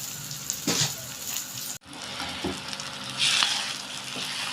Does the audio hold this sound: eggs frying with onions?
yes